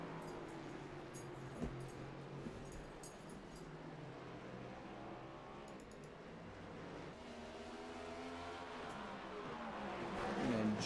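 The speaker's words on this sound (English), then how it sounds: "listen to the sounds of what's going on in that race car" A stock car's engine drones steadily from an onboard view in iRacing's Coast to Coast Cup Series at the Daytona Road Course, growing louder and rising in pitch as it accelerates toward the end, with no talking.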